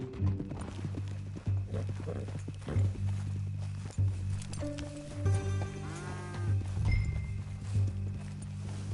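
Horse sounds in the Red Dead Redemption 2 video game: hooves clip-clopping and a snort or whinny over a steady low hum, fairly close and moderate in level.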